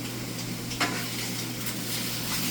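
Honey garlic chicken sizzles steadily in a hot frying pan, a close, continuous crackle with a brief clatter of handling near the start.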